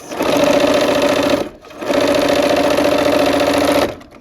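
A sewing machine stitches quilt fabric in two loud, steady bursts of rapid rhythmic whirring separated by a brief pause, close and without talk.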